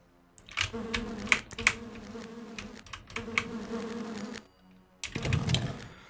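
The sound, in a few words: spiders buzzing in Lands of Lore DOS video game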